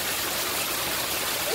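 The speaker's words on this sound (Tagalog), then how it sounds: "Ang ganda, another falls. Pero hindi naman siya masyado malakas dito." A small waterfall in a Hong Kong park gives off a steady, full rushing roar of falling water, close and unbroken throughout, with no talking.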